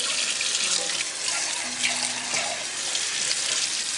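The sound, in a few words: rinsing canned chickpeas under a running tap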